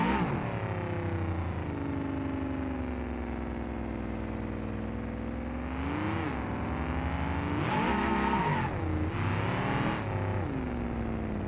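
A big-block V8 engine in a German station wagon taking a lap in BeamNG.Drive, a steady loud drone that rises and falls as it revs and shifts, with sharper surges of acceleration near the end.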